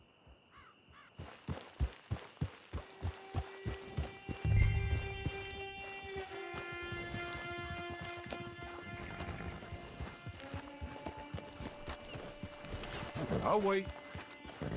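Horse hooves clip-clopping in a steady rhythm, then a loud whinny and snorting in the Red Dead Online game, with crows cawing and a voice speaking briefly.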